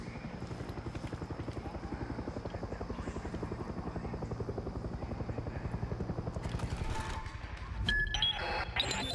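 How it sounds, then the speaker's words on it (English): A helicopter in the video game Far Cry 6 gives off a steady, rapid rotor chop and engine drone, loud and continuous, with a louder burst of noise near the end. "There's a freaking chopper."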